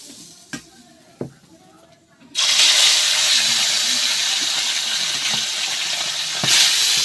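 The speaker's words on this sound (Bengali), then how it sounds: "এইবার মাছগুলো দিয়ে ভেজে নেব" Tilapia fish dropped into hot oil in a wok, a few quiet clicks and taps giving way to a sudden loud, sustained sizzle that carries on with slight surges.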